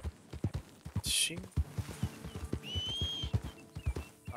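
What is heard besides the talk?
horse hooves clip-clopping in a roleplay video game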